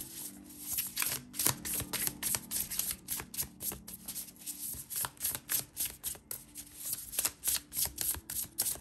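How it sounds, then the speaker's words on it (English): Tarot cards are shuffled by hand in a rapid series of crisp riffling bursts and soft slaps, close and fairly quiet, repeating rhythmically for several seconds with no talking. "let me put it back and let's shuffle."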